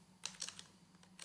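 Quiet typing on a computer keyboard while entering a network share address to reach a Raspberry Pi 3 NAS, a few short bursts of soft key clicks with brief pauses between them, no voices.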